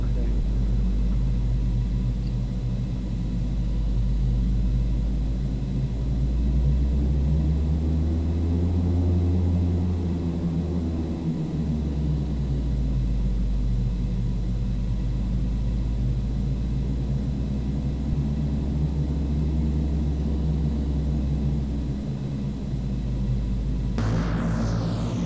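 Carenado Fokker 50 turboprop engines taxiing in the Prepar3D flight simulator, a steady low rumbling drone that swells slightly midway and holds continuously at close range, with some talk over it.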